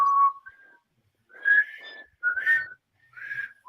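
A person whistles "Twinkle Twinkle Little Star" in short, wavering phrases with gaps between them, close and fairly loud, and no talking over it.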